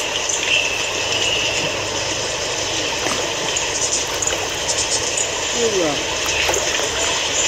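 Clear mountain stream at Lokop Serbajadi, a steady broadband rush of flowing water filling the scene, with a voice speaking over it at moments.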